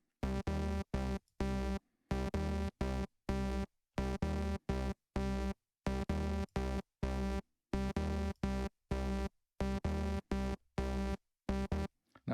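A Korg Gadget Memphis synth runs through band pass and high pass filters, firing loud, tightly gated chord stabs in a steady repeating rhythm, with sharp silences between the bursts.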